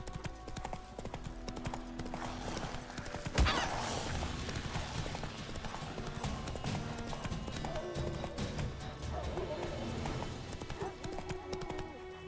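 Roach, a horse in a video game, gallops with rapid rhythmic hoof clip-clops under game music and ambience, with a sharp louder hit partway through; no clear speech.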